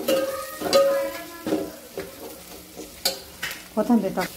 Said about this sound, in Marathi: कोथिंबीर पण छान परतून घ्यायची।